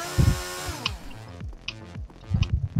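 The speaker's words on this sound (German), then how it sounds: "nehm ihm doch mal jemand die Kettensäge weg" A chainsaw revving in a violent video game, a buzzing motor sound that rises and falls in short bursts alongside other game noises.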